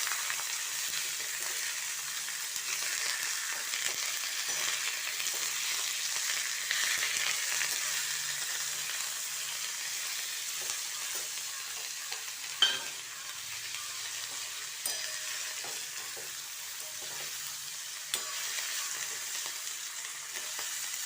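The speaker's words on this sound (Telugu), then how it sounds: "చుక్కకూర చాలా తొందరగా వేగిపోతుంది, అందుకని ఇదే వేగాలి." Sorrel leaves frying in oil in a pan give a steady, moderate sizzle that holds evenly throughout, with occasional soft stirring scrapes and a single sharp clink partway through.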